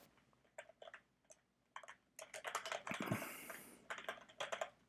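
Rapid typing on a computer keyboard at a meetup presentation, quiet clustered key taps in short bursts building to denser clatter, close but faint, with no talk.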